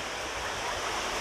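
Water rushes steadily in a mountain stream on Mount Batulusong, a continuous broadband gurgle and hiss close by, with no voices over it.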